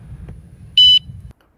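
An anti-theft alarm on an e-bike gives one short, sharp electronic beep on activation, loud and clear over a low background rumble.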